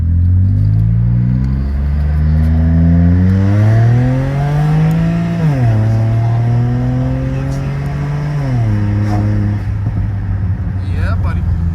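A 19T V4 turbo car engine revs up in rising, falling sweeps close by, building through several pulls with a loud, steady rumble between them.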